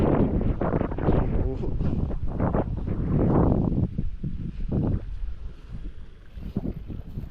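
Strong monsoon wind buffets the microphone in a constant low roar while a person talks over it.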